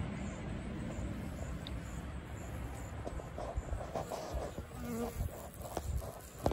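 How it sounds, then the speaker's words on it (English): Honeybees buzz around a ceramic bird feeder filled with honey at an outdoor wasp feeding station, a faint, steady insect hum with occasional closer passes and light clicks. "Our wasp feeding station absolutely become a honeybee feeding station."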